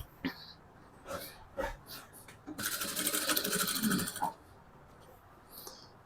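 A sewing machine stitches a halter-neck blouse in one rapid, steady burst of under two seconds, with scattered clicks and handling knocks before and after.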